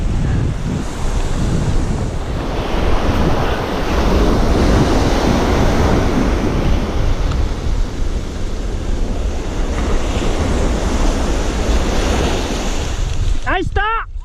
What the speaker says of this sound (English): Water splashing in my face,